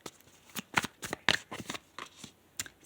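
Tarot cards being shuffled and drawn, a quick run of crisp papery riffles and snaps, close and fairly quiet, with no talking.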